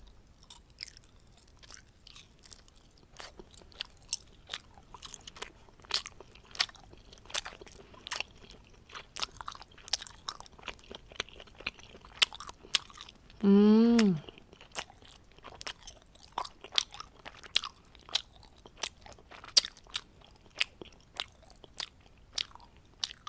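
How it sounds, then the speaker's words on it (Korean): Someone chews the fatty rind of jokbal, sweet soy-braised pig's trotters, close to the mic, with steady wet crunchy bites and brief scrapes throughout, and a short burst of other sound partway through. "비계 부분 한번 먹어보도록 하겠습니다"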